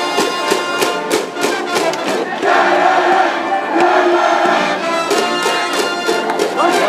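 Crowd noise swells in the first-base stands at a high school baseball game, a loud, sustained roar of cheering and clapping that persists throughout.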